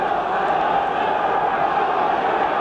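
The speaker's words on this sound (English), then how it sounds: "Crowd again beginning to try and raise the spirits of their Derby side." Football crowd at a Derby match in the 1973/74 season, a steady, dense roar of massed voices chanting to lift their side, sustained and fairly loud throughout with no break.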